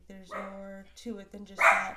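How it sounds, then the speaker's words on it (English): Dogs bark a few times in the background, short yips and bow-wows mixed under and between a woman's close speech. "And my dogs don't stop barking"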